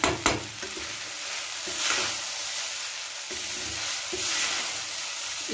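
Sago pearls being gently stirred and fried in a pan, a steady close sizzle with scraping stir strokes and occasional louder clatters of the spatula, no voices.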